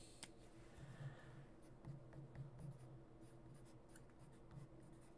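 Pen scratching across paper while jotting a quick note during a soccer trading card break, soft intermittent strokes with low hum beneath and no speech.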